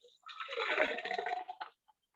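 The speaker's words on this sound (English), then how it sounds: "I'm just gonna pour it out." Homemade juice pours from a jug in a home kitchen, a short liquid gush of about a second and a half that trails off into a few drips.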